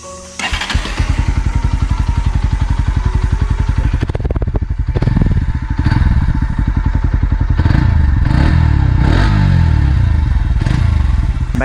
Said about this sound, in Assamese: বাইকখনৰ এগজষ্ট নটো এবাৰ আপোনালোকক শুনোৱাই দিছোঁ,